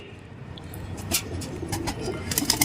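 Kasni Teddy pigeons, a golden cross among them, coo softly in a loft, murmuring calls rising over a low background hum, close and continuous.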